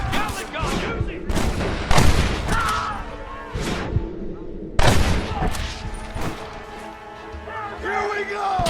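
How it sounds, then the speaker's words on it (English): Gatling gun fire in the video game Red Dead Redemption, with several loud, sharp bursts and booms spread across the clip over a noisy battle background. Game characters shout and talk between the shots. "Fire! Gatling gun, use it!"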